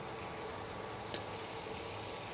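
Chopped ginger sizzles in hot oil alongside cinnamon and cardamom, a steady, even crackling hiss with one brief sharper pop midway and no voices.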